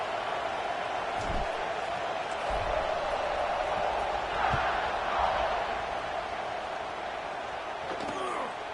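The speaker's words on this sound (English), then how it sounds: "this crowd is buzzing after that last score" A continuous stadium crowd murmur fills the space at a football game, a dense distant buzz with occasional thuds and louder swells.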